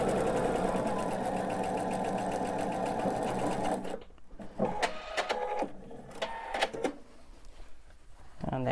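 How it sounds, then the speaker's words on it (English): Sewing machine backstitching a quilted table topper: a steady mechanical whir for several seconds, then stopping and restarting in short bursts of stitching with clicks between. "I am gonna backstitch here just because I'm not chain piecing and I don't want these threads to come out."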